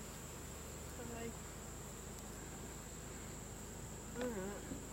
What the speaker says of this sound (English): let's see if we can find if there's any more bees on that one frame that had eggs